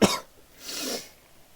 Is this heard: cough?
yes